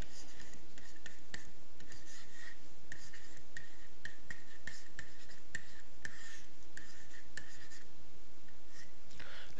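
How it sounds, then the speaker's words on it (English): Pen scratching on paper while an equation is written out, a steady run of short scraping strokes with brief pauses between them, close and clear with no talking. "ready to write the equation down?"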